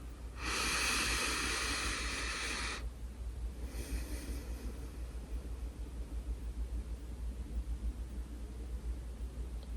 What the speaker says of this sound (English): That's one cycle of breath.